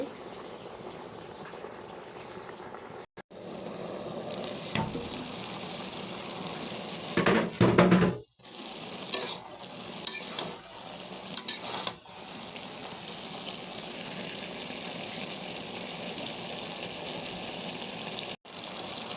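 A dried-fish curry with potato, pointed gourd and yardlong beans sizzles steadily in a pan, with a constant frying hiss, scattered stirring clinks and a few louder pot and lid clatters, and no talk.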